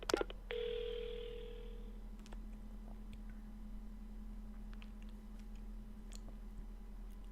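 A payphone in a video game being used to call an ambulance: a click as the receiver lifts, a steady dial tone for about a second and a half, then sparse faint clicks and taps against a low background hum.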